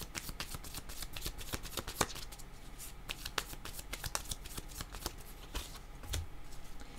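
Tarot cards are shuffled continuously at close range, a dense run of quick papery riffles and soft slaps in an uneven rhythm, quiet overall with no voices.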